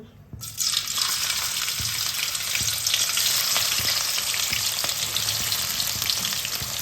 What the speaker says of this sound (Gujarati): જો મમ્મી બધું વઘારે છે.